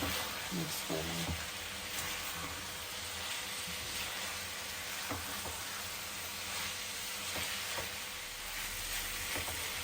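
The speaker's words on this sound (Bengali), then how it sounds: "এবার এটার মধ্যে সয়াবিনটা দিয়ে দেবো, দিয়ে ভালো মতন মিক্স করে নেব।" Soybean chunks frying in hot oil in a home kitchen, with a steady close sizzle and occasional stirring scrapes throughout, no voices.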